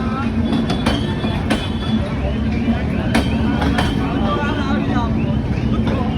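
A passenger train rolls steadily along the rails as heard from inside a carriage, a dense continuous rumble with faint rhythmic clatter and occasional sharp knocks, while people talk over it throughout.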